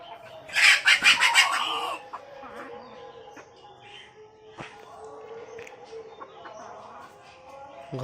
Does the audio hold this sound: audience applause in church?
no